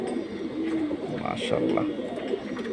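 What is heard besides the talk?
pigeons being shown by hand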